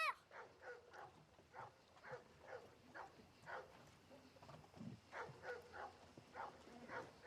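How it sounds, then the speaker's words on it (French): A dog barks and yips in a repeated, fairly steady series of short calls at low level, somewhat distant, with a faint whimpering edge and no clear talk. "Pourquoi il aboie encore comme ça?"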